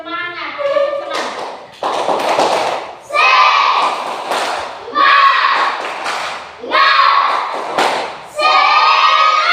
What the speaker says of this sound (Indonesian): Tepuk tangan semangat